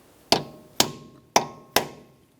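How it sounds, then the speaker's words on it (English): Four sharp metallic hammer strikes on a punch, peening an axle nut into its groove on a 2003-2007 Honda Accord front knuckle, spaced about half a second apart and ringing briefly in a quiet garage. "We'll use a hammer and punch and peen the nut down into that groove."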